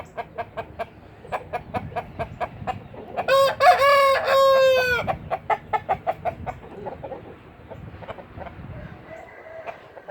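Roosters crow repeatedly at a farmyard, one loud close crow dominating the middle while other birds cluck and call in short bursts around it, with a few more distant crows trailing off.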